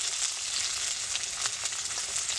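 Chopped onion frying in hot mustard oil gives a loud, continuous sizzle with faint stirring crackles, close and alone.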